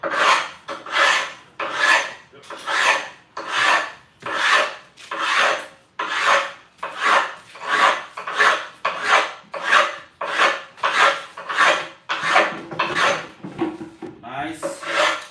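Rhythmic hand rasping as a sharp-edged stone tile is beveled by hand, about sixteen steady back-and-forth filing strokes close up with no talk.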